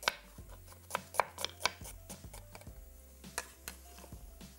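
A knife slices through a medium onion on a cutting board in a kitchen, giving about a dozen soft, close chopping taps in a steady rhythm that slows toward the end. The sound is quiet, with no talking.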